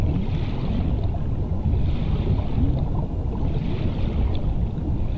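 Steady, muffled rushing of water with a low churning rumble, constant and enveloping like being submerged, with no voices, in the video game Subnautica.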